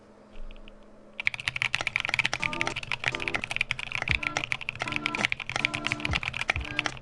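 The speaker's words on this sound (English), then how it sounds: "I can feel the spacebar grating against the case" Rapid, steady typing on a prototype Hive 60 mechanical keyboard built from mostly locally made parts, its spacebar grating against the case; dense clicky keystrokes start after a short quiet moment and run on, close and loud, with no talk.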